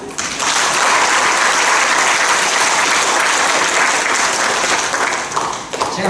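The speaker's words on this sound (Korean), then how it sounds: "박수" Loud, dense applause from a seated audience at a talk on manners, a steady wash of many hands clapping that fills the whole stretch and tapers slightly at the end, with no voices over it.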